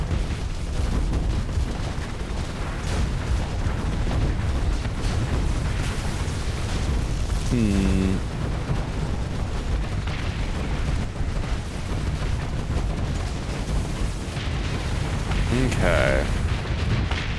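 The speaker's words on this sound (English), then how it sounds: "Oh, so many things exploding." Many things exploding in a space colony video game, a dense, continuous rumble of booms and blasts that runs the whole way through, with a brief spoken word near the end.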